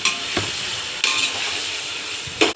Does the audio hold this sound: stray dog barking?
no